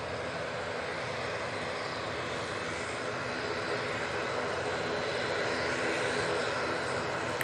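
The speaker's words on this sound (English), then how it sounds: "we do have the Aer Lingus on the taxi out now, using an A330-300" An Aer Lingus Airbus A330-300 taxis at Manchester Airport, its engines a broad, steady roar with a constant whine that holds level throughout, loud and unbroken at middle distance.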